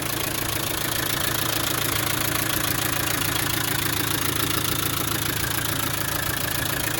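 Land Rover Defender 90 with the 300TDi diesel engine running, a close, loud, steady idle with an even knocking rhythm and no pauses.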